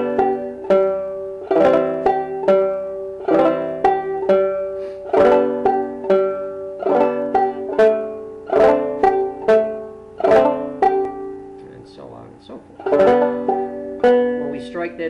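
A banjo is frailed in a boom chaka rhythm, picking out the third string on the first beat, a steady repeating pattern of bright plucked notes and brushed strums played close up with no talk.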